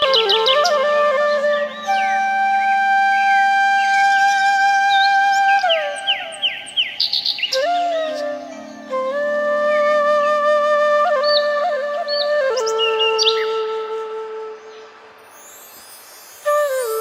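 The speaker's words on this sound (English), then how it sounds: "Birds of paradise." Birds of paradise call in clear, sustained tonal whistles with sliding and stepped notes. Calls layer over one another for about seventeen seconds, then fade toward the end, with no voices.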